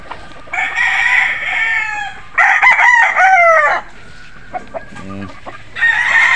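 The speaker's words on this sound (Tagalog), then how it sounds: "Ito yung ating mga Golden Boy sweater" Golden Boy sweater gamefowl roosters crowing repeatedly in a cording area, several long loud crows overlapping with brief clucks and quiet gaps between them.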